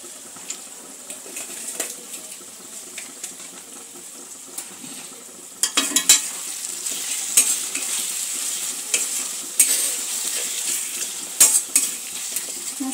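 Spices fry and sizzle in a pan while a utensil stirs and scrapes, with irregular clatters and spoon knocks that grow busier and louder partway through.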